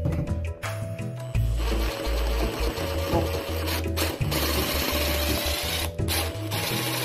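Electric drill running in reverse to back out a stripped slotted screw, a steady loud whirring motor hum with brief dips and restarts, close and continuous with no talk.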